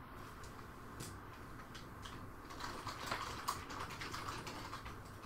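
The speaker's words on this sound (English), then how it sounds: "sorry about our constant keyboard typing sounds." Steady, fairly quiet typing on a computer keyboard during a morning livestream, the keystrokes clicking continuously and close to the mic, with no voices.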